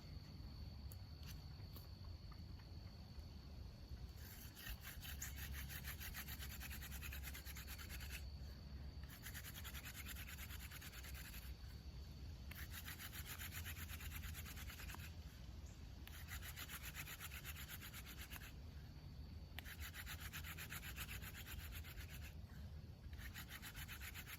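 A willow hand drill spins against a wooden fireboard for friction fire, with sand added for grip, giving bursts of dry, rasping rubbing that start and stop in a repeated rhythm, quiet and close with no talk.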